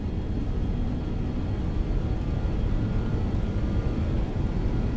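Simulated BAe 146 jet engines spool up for the takeoff roll in X-Plane 11, a steady, loud, broadband rumble and whir holding constant throughout, with no talking.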